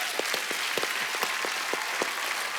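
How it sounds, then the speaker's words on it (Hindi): Studio audience at The Kapil Sharma Show, a Hindi comedy show, gives steady sustained applause, a moderately quiet even wash of many hands with no talking over it. "तालियां बनती हैं भाई आपके लिए।"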